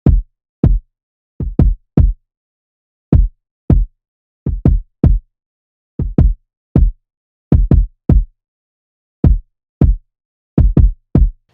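Two kick drum samples layered in FL Studio play as a boom bap kick, with punchy, deep thumps in an irregular rhythm, often in quick pairs, separated by clean silence.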